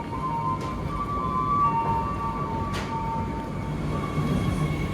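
A KRL commuter train on the Yogyakarta–Solo line rumbles along steadily, with a sustained tonal hum and a couple of brief clanks over constant rolling noise.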